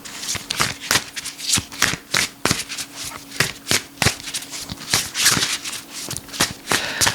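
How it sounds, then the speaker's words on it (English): Tarot cards shuffled and drawn by hand, a fast run of crisp riffling bursts and slaps close up, repeating steadily with little pause. "I'm going to pull 2 cards for him"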